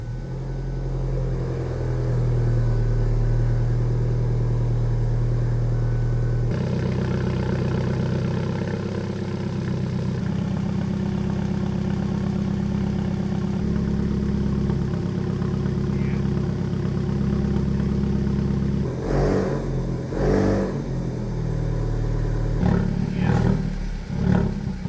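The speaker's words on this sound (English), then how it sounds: "we can try to start the car" An Alfa Romeo 4C Spider engine cranks and fires after two years of standing, then settles into a loud, steady idle with a low uneven rumble, a shift in tone partway, and rougher pulsing bursts near the end.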